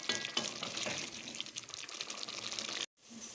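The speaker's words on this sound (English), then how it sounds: "Then you stir and let the spices to cook together with this mixture of the tomatoes." Spices cooking with tomatoes in a pan for wet-fried tilapia: a steady sizzling hiss with faint stirring scrapes, cut briefly by a moment of silence near the end before the sizzle returns.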